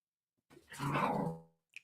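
A single dog gives one drawn-out bark or growl as dogs come into the room, fairly near and loud, followed by a brief faint tick.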